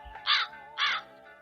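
A crow caws twice in a steady rhythm, loud and fairly close, over a constant background hum.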